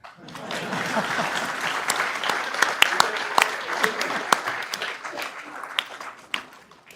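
Clapping from an audience at a tennis ball cricket tournament celebration, a steady moderate patter with a few sharper close claps, with a voice carrying over it at times.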